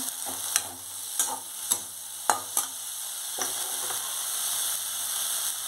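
Green chillies hit a hot pan of fish curry, giving a steady frying sizzle punctuated by a handful of sharp ladle knocks in the first few seconds.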